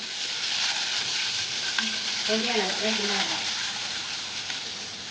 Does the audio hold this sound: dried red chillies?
yes